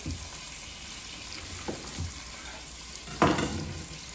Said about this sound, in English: I'm going to cook them down, like I said, 30-45 minutes. Get some good caramelization on them